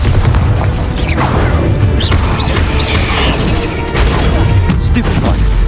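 Explosive Bombarda spell blasts in the Hogwarts Legacy video game, loud booms and crashes amid a dense, continuous battle soundscape of spell effects, with a voice calling out spells over the action.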